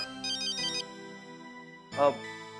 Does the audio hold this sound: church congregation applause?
no